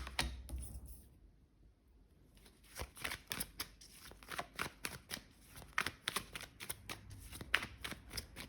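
Tarot cards being shuffled by hand, a run of quick, crisp riffling snaps in an uneven rhythm after a brief quiet pause, with one card flipping loose from the deck, close and clear.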